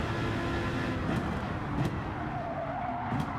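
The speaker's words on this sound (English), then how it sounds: "That beetle engine." Volkswagen Beetle engine in Gran Turismo 7 racing, a steady low drone blended with other race cars' engine noise and brief tire skids, continuous and fairly loud with no talking.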